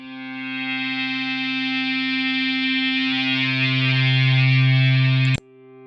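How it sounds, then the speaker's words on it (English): A spectral guitar sample is triggered in the Cubasis Mini Sampler, a sustained, effect-laden harmonic tone that swells louder and brighter before it cuts off abruptly, heard alone without talk. "I made a pack for Koala called Spectral Guitars, and these are all from them."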